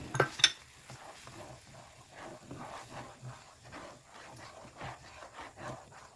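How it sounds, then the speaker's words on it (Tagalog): A spoon stirs Cajun powder into broth in a pot for shrimp Cajun, giving a few sharp clinks at first, then faint, steady scraping and swirling close by. "Hinalo ko lang maputi hanggang sa mawala na yung powder ng Cajun."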